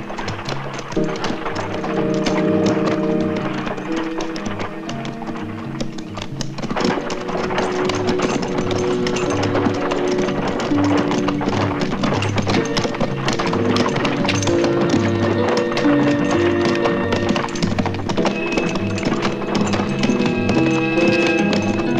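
Horses pulling a cart clip-clop steadily on a hard surface, the hoofbeats loud and close amid a busy, continuous background of rumbling and clatter, with no talk.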